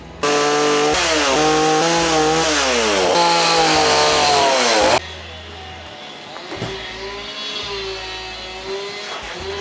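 A chainsaw cuts into wood while carving a bear, screaming loud and close at full throttle for several seconds before dropping back to a rough, steady idle.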